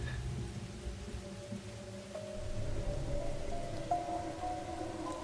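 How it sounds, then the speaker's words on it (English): Rain in the video game Master Detective Archives: Rain Code, a faint, steady wash of falling rain with a low rumble beneath and a soft tonal hum running through it. "Oh, it's creating rain."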